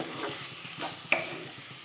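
Leafy greens, shaak cooked down until dry, fry in a pan as a utensil stirs them, giving a steady soft sizzle with scraping strokes and one sharp clack of metal near the middle.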